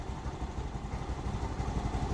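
A scooter pulls away, its small engine putting out a low, steady, close hum with a faint rattle.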